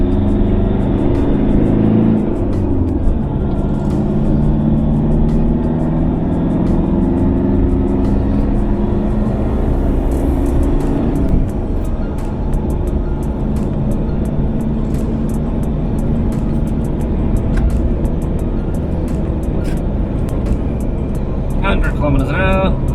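Steady low road rumble and engine drone inside a Toyota Hilux cab, with sound deadening fitted, as it drives onto a motorway, a continuous loud hum throughout with a voice talking over it.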